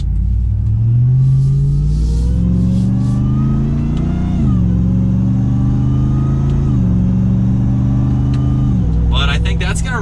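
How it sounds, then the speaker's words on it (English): A 2022 Ram 1500 TRX pickup truck engine revs up steadily while accelerating through a turn, rising in pitch, easing off and climbing again, loud and close throughout, with a brief burst of talk near the end. "We'll do one more slight acceleration as we come around this turn here."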